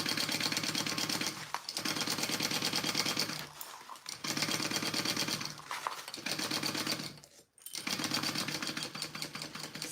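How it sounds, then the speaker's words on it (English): Sewing machine stitching fabric pattern pieces for a sling bag, running in several loud, close bursts of rapid mechanical rattling separated by short pauses. "So you should have 4 sides that you're sewing on right now."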